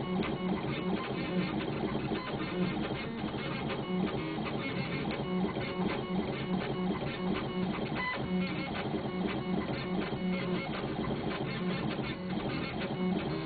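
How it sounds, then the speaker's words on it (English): A Gravograph IS400 cylindrical engraving machine works with a non-rotating diamond-pointed tool, giving a continuous, dense mechanical chatter and whir that stays even throughout. "now it will engrave the warning, the wiring diagram information"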